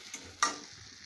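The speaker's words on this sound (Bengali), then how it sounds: "এভাবে এটা ভাজা হবে। এগুলো যখন ভাজা ভাজা হয়ে যাবে, ক্যাপসিকামটা দেখুন ভাজা হয়ে গেছে" Capsicum frying in a pan over raised heat makes a soft, steady sizzle, with one brief sharp utensil tap and a fainter click before it.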